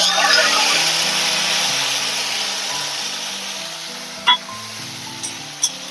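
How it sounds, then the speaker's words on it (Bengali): A ginger, cumin and tomato paste masala fries in hot oil in a pan, a steady loud sizzle with a few clinks of stirring near the end. "এবারে মশলাটা ভালো করে কষবো"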